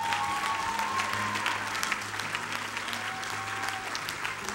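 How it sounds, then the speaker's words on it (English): A church congregation claps for Jesus during a service, a steady crowd of hands clapping close and lively, with faint sustained tones and murmured voices beneath the clapping. "let's give Jesus a hand clap."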